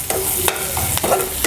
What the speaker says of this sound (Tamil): கொஞ்சம் வெங்காயம் கொஞ்சம் லைட்டாக பொன்னிறமாக ஆகிற வரைக்கும் வதக்கிக்குங்க